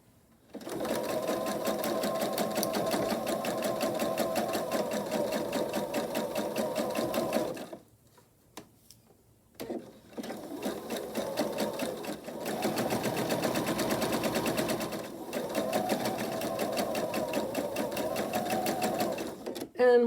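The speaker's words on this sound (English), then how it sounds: "I'll take these over to the machine and sew a 1/4 inch seam allowance down each side." Home sewing machine stitching a 1/4 inch seam allowance with a 1/4 inch presser foot on quilt patches, running in steady buzzing bursts with a short pause near the middle, close and loud with no talk.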